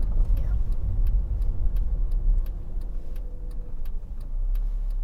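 A car's turn indicator ticks in a steady, regular rhythm inside the cabin as the car slows to a stop during a driving lesson, over a low engine rumble.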